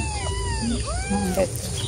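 A cat abandoned in a forest meows several times, rising and falling cries close by, while people talk nearby.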